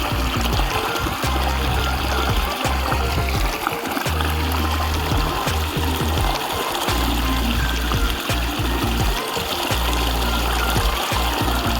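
Water splashing and trickling during a bath in a village field, a continuous close, loud pouring and dribbling wash with irregular splashes, and a low voice faintly beneath.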